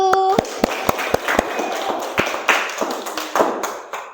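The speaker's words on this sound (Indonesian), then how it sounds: "Ya, anak-anak, tepuk tangan untuk kelompok 1." Children in an Indonesian classroom clap for a group of classmates: a scattered, irregular run of sharp claps and taps, close by and uneven in strength, with some voices mixed in.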